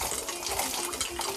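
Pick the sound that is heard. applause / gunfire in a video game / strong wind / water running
water running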